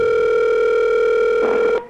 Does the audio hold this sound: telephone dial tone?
yes